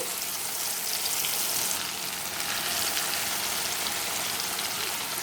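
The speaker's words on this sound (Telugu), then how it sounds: "వేడి వేడి నూనెలో పచ్చడి వేసుకుంటే బాగుంటుందన్నమాట" Tempering sizzles in hot oil for a red chilli chutney, a continuous bright frying hiss that stays even and close throughout with no talking.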